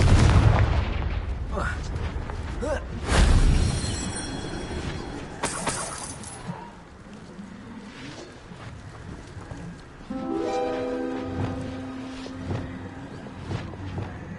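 A Confringo blasting spell in Hogwarts Legacy goes off as loud booming blasts with crackling debris, followed by quieter rumbling and then a rising tonal effect, with talk mixed in at points.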